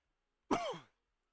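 A single short, faint cough from one person, a brief throaty burst that fades quickly, with silence before and after.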